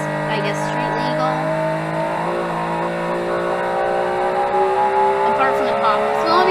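A 1000cc engine in a track-focused, single-seat, street-legal car in the Automation game drones loud and steady, its pitch slowly climbing, while someone talks over it.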